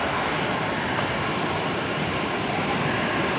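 Qantas Link airliner starting its takeoff roll at Brisbane Airport, heard as a steady, loud broadband engine roar that holds evenly throughout without pause.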